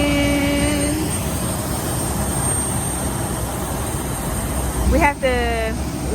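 Airliner engines running on the ground just after landing in Michigan, a steady loud hum with a whining tone that dips and rises near the end, heard up close from inside the aircraft.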